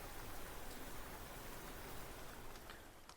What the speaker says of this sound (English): That's some linear rain.